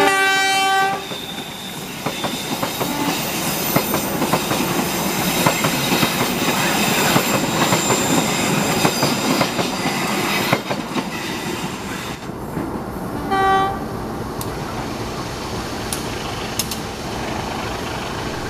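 A Serayu passenger train creeps uphill through Cirahayu station on track 2 without stopping, with loud, continuous rumbling and clattering of wheels, long horn blasts near the start and again around the middle, and faint wheel squeal.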